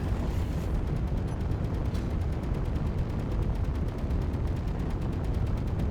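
Rapid weapon fire in the Space Engineers game hammers out a fast, continuous stream of evenly spaced shots, loud and dense throughout, with no talk over it.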